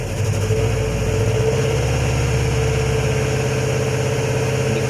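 A car engine idles steadily and loudly up close after an ECU swap, a constant droning hum with no talk over it; the start itself is not distinct.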